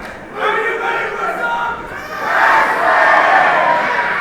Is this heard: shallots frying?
no